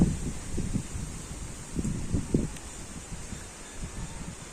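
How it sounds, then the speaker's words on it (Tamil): Wind blows steadily at a scenic countryside spot in nature, a soft continuous rush with gentle gusts and faint rustling, heard alone. "இங்கேருந்து என்ன ஒரு சூப்பரான காற்றுங்க."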